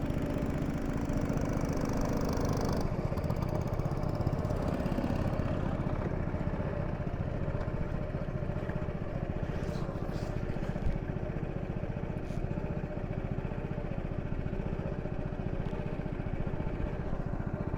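A passenger motor boat engine drones steadily and loudly throughout, close by on a lagoon, with occasional faint clatter over the constant rumble.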